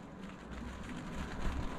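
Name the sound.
rain falling on a timber sailing boat at sea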